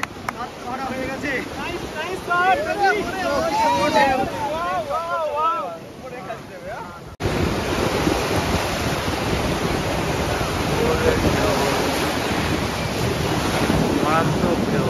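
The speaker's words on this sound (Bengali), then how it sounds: "মারাত্মক ঢেউ" Large ocean waves surge and break steadily at Puri beach, a loud continuous roar of surf with wind buffeting the microphone, while people talk and shout excitedly over it, with a short cut midway.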